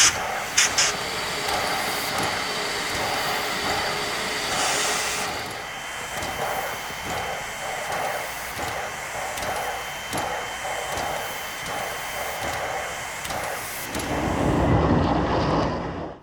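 Southern Pacific 4274, a massive articulated steam locomotive, backs slowly toward its train at Sparks with a steady mechanical rumble and faint rhythmic beats, growing into a louder, deeper roar near the end.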